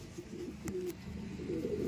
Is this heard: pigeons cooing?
yes